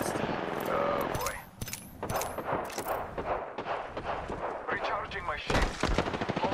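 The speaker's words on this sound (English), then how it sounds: "They are attacking. Yeah, getting shot at." Gunfire in the video game Apex Legends cracks in rapid bursts and single shots, loud and close, mixed with automatic weapon fire and a few heavy impacts, while a player talks over the action.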